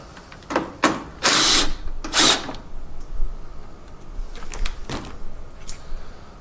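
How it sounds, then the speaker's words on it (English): A power tool whirs in short bursts, taking a bolt off a Big Dog Alpha scooter fender, with two louder extended runs followed by a few quicker blips and clicks, close by and with no talk. "So let's pop this bolt off."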